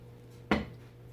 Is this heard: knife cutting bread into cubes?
yes